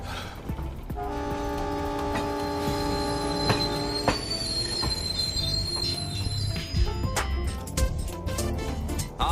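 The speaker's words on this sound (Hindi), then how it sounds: "अभी अभी ट्रेन पे चढ़ा हूँ।" A train runs on its rails with a loud, steady rumble and sustained high metallic wheel squeals that rise and fade, with brief sharp clanks and no voices.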